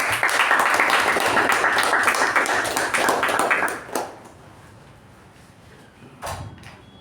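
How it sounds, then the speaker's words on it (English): At a Toastmasters meeting, a roomful of members claps warmly for several seconds, then the applause breaks off into quiet, followed by a single short knock or thump near the end. "Please welcome with a huge round of applause, Toastmaster Jyothi."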